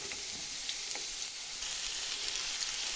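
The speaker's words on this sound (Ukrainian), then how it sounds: "Лили на сковорідку олію, додаємо морковку, цибульку і трошки протушковуємо" Carrots and onions in oil sizzle softly in a frying pan, a quiet continuous hiss with faint scattered pops and no talking.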